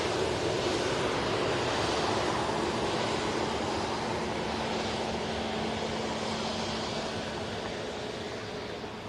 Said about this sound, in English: this Virgin Atlantic, another aircraft heading over the Atlantic to Atlanta as flight 109